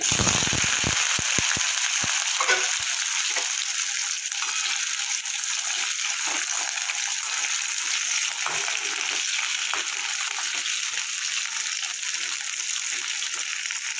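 Diced potatoes crackling in hot mustard oil with black cumin (kalonji), a steady bright sizzle throughout with a few clicking spoon taps near the start.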